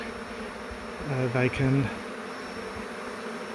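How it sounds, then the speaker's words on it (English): Honeybees from a hive built inside a brick chimney buzz in a brief, close swell of droning tones, with a voice speaking faintly underneath. "beevac any remaining bees, so that we know we've got no bees left from this hive"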